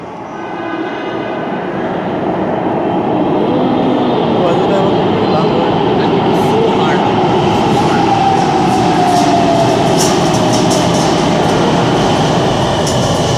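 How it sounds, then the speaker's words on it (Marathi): A Pune metro train rumbles past at a station, a loud, steady roar with rising rail hiss and faint clicks sustained throughout, with distant voices under it. "मेट्रो गेली काय"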